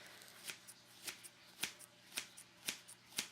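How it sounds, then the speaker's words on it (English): Scissors cut through a fursuit foam base, giving close, quiet snips in a steady rhythm about every half second, with no talking. "Alright, so I'm cutting up this part here"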